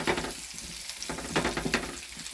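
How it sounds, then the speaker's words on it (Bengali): Onions and masoor dal fry in a pan with a continuous close sizzle, broken by a few sharper scraping bursts as the mixture is stirred. "পেঁয়াজ দেবো আর ডালটা দেবো, সঙ্গে ভাজবো, পেঁয়াজটা একটু লাল হোক"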